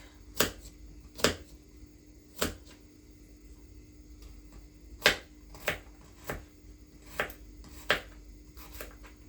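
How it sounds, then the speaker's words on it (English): Garlic cloves are chopped with a knife on a cutting board in a home kitchen: sharp, close, irregular chops, about a dozen over several seconds with pauses between, alone in a quiet room. "let's go ahead and cut up our garlic."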